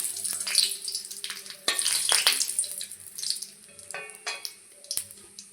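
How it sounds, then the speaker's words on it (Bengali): Dried red chilies and bay leaves frying in hot oil in a wok for a Bengali fish-head and banana-flower dish, a steady close sizzle with sharp crackling bursts and a few stirring clatters. "কড়াইয়ে দিয়ে দিয়েছি তেল, দিয়ে দেবো দুটো শুকনো লঙ্কা,"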